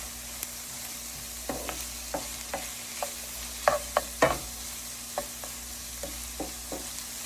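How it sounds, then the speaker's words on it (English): Onion and garlic fry in a pan under a soft continuous sizzle, punctuated by a regular series of close spoon scrapes and knocks from stirring, with no one speaking. "when the onion is about halfway done, what you want to do is add your garlic"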